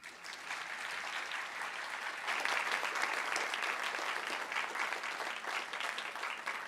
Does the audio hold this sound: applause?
yes